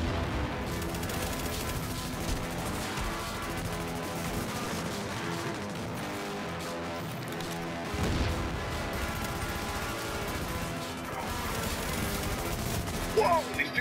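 Gunfire in the video game The Division, dense bursts of shots and automatic fire rattling on continuously with explosive crashes, loud and busy, mixed with game sounds.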